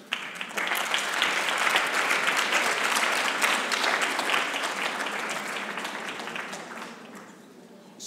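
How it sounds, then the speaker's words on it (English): An audience at a women-in-leadership governance forum gives a round of applause for the second panel's speakers: loud, sustained clapping that slowly tapers off near the end. "maybe we could give a round of applause"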